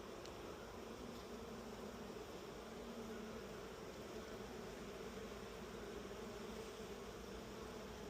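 A faint, steady hum of honey bees buzzing inside a hive fills the air, continuous and even, with no voices.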